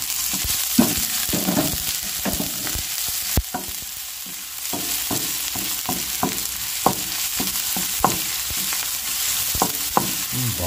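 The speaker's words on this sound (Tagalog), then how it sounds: "Gisa natin ang ating luya. Hindi natin patagalin yan mga kabayan. Sabay na natin yung bawang sibuyas." Ginger, garlic and onion sauté in a hot pan, with a steady sizzle under frequent sharp spatula clicks and scrapes as the aromatics are stirred.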